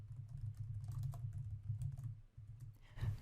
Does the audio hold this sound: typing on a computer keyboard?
yes